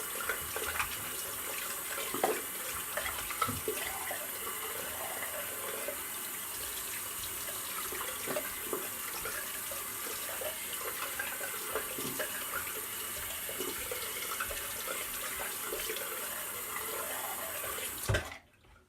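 Running water from a tap sprays steadily while a dog is rinsed during grooming, a continuous close hiss and splash that cuts off abruptly at the end.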